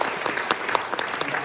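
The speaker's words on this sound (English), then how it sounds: "So, round of applause for this question." Scattered applause from a debate audience at a Pennsylvania Auditor General candidates' debate, a fairly sparse patter of individual claps at moderate distance, steady through the moment.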